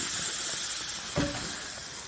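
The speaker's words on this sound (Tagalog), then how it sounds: "Ito, malakas ang apoy." Loud, steady hiss of fire flaring on a grill cooking pork ribs in winter, with a brief burst of sizzle partway through.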